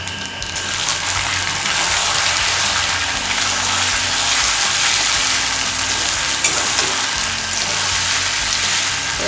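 Snakehead fish curry with tomato fries in a pan with a loud, dense, unbroken sizzle and bubbling crackle, close and steady throughout, with no talking.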